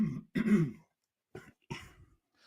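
A close, raspy throat clearing followed by a couple of short coughs, with brief silences between them.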